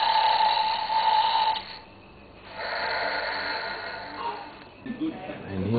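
A toy donkey that snores gives off a raspy, snort-like rhythm up close. A steady tone runs through the first part, then there is a short lull before the rough sounds return.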